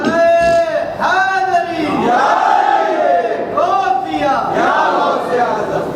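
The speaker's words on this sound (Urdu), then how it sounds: "ذرا مل کے نعرہ لگا میں دم لے لوں" A crowd at a religious speech welcoming Ramadan shouts a slogan together in loud, repeated unison bursts, voices swelling and falling in rhythm.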